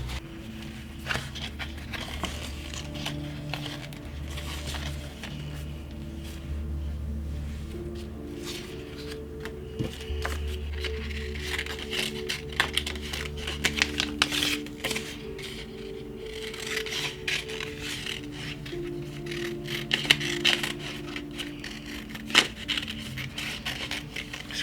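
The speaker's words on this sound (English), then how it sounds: "I'm just going to quickly cut around that." Scissors snip steadily around a printed paper image being cut out for a collage, with soft crisp cutting clicks and paper rustling up close over a low background hum.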